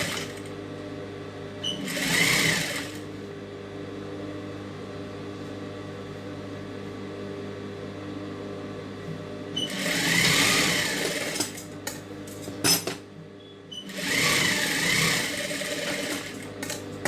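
Sewing machine joining the back and front pieces of a silk skirt, three short bursts of fast stitching separated by quiet pauses, close and fairly loud.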